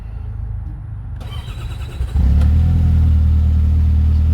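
A 2026 Kawasaki Teryx 5 H2 UTV engine cranks and catches about halfway through, then settles into a loud, close, steady idle after a quiet stretch of low rumble.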